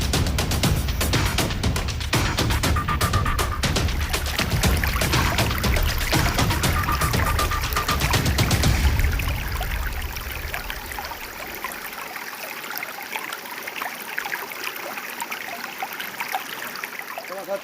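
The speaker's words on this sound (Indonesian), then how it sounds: "Ini salah satu anak sungai yang ada di alirannya." A small tributary stream flows near the Lubuk Sampi waterfall, rushing and splashing loudly at first with irregular gurgling bursts, then settling into a softer, steady trickle for the rest of the clip.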